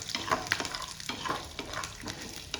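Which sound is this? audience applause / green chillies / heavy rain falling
green chillies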